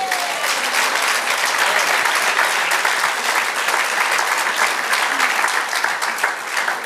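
A church congregation claps during a Spanish-language sermon: dense, steady applause from a large crowd that holds at an even, loud level throughout.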